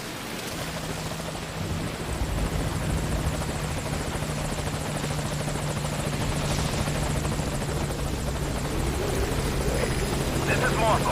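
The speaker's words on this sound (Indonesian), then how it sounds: "Kita tunggu helikopter penyelamat datang untuk menyelamatkan" A rescue helicopter's rotors and engine drone loudly and steadily throughout, a continuous close thumping roar that builds slightly toward the end.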